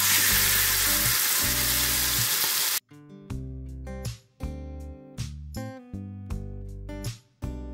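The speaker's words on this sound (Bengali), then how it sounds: "এবার ম্যারিনেট করা চিকেনটা অ্যাড করে দেবো।" Marinated chicken dropped into hot oil with fried whole black pepper, cinnamon, cardamom and cumin for hariyali chicken gives a loud, dense sizzle for about three seconds, which then cuts off and gives way to music.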